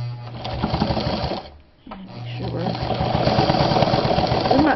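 Japanese-made Sewmor sewing machine running a long stitch through bonded garment leather from an old jacket, a steady close mechanical whir with a brief pause midway before stitching resumes.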